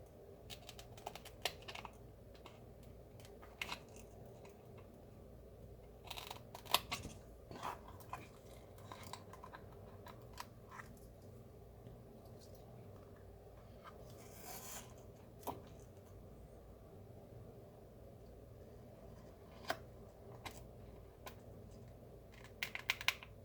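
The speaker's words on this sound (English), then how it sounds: "grab my handy Swiss Army knife here. This is the Super Tinker model, by the way, and we'll cut this out" A Swiss Army knife, Super Tinker model, cuts out a piece for a Casio mod, making faint, scattered scraping and clicking ticks with a few louder snaps over a quiet background.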